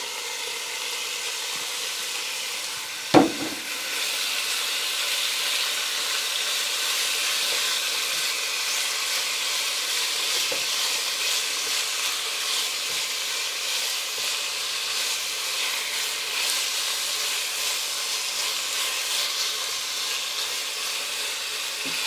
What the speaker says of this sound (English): It's really sizzling up a storm.